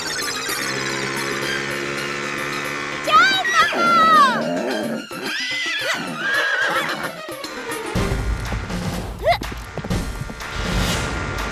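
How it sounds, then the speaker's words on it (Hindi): A horse whinnies loudly in a comedy film scene, with harmonic neighing calls rising and falling over the first half, followed by noisy action and hoof-like clatter, with voices faintly mixed in. "घोड़ा तो आगे निकल गया।"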